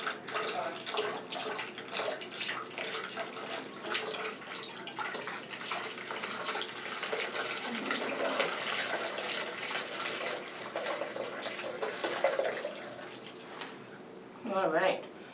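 DTG pretreat liquid is poured into a filter kit's small middle hole, a soft trickling, splashing flow running steadily beneath a voice as he talks throughout.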